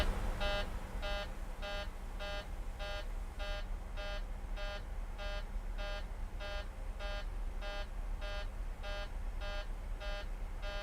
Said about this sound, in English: I'm sure you heard that beep, beep, beep too.